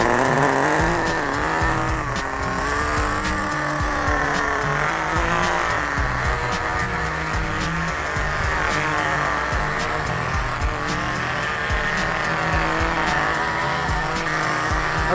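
A nitro RC car's small high-pitched engine buzzes and whines continuously, rising and falling in pitch as it speeds around, with occasional tire noise.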